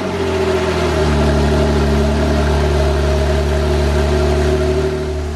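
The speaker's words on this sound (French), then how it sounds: "Elle a aussi l'option de l'échappement sport." A Porsche 911 Targa of the 991 phase 2 generation with sport exhaust runs close and loud, holding a steady, throaty idle with deep low rumble and no talking.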